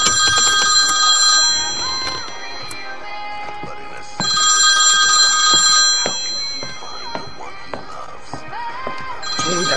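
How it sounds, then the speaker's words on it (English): An old-fashioned landline telephone rings in a home, two loud electronic bell bursts separated by a pause, while someone talks and small household thumps sound nearby. "Oh, I better get the phone."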